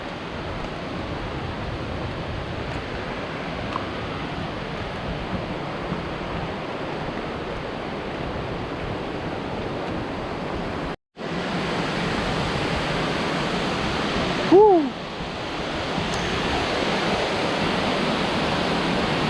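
Baker's Falls at Horton Plains, Sri Lanka, a steady broadband roar of falling water heard close and loud throughout, briefly cut by a short dropout and a faint bird chirp near the end.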